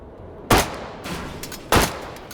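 Two sharp, loud gunshots in the video game H3VR, about a second apart, each a close punchy crack with a short tail, plus faint handling clicks in between.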